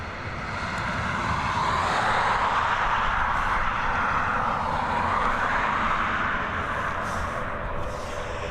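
An ATR regional turboprop airliner passing at Dublin Airport, its propeller and engine drone steady and fairly loud across the whole stretch, broadband roar rising slightly and holding without voices.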